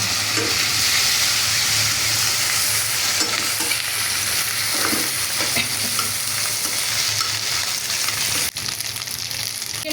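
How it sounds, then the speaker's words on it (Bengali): Fish roe sizzling loudly in a pan of onions fried until reddish, a dense, constant hiss of hot oil with intermittent stirring scrapes, close and continuous. "পেঁয়াজ লাল লাল করে বাজ্যা নিলাম। এখন আমি মাছের ডিমটা দিলাম"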